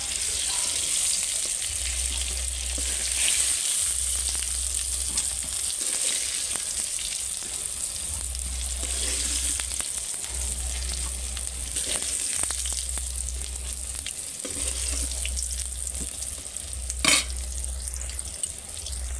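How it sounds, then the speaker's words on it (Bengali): Pointed gourd (potol) frying in oil, a steady continuous sizzle with occasional stirring clinks and a brief louder scrape near the end, no voices. "পটলগুলো আমার লাল লাল করে সুন্দর ভাজা হয়ে গেছে"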